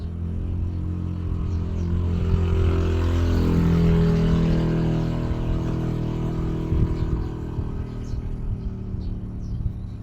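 A motorcycle passes by, its engine a low droning hum that swells to a peak near the middle and then recedes, heard indoors with steady background noise and a few faint clicks.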